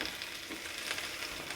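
Pointed gourd with turmeric and salt frying in a pan, a steady close crackling sizzle with faint stirring throughout, no voices.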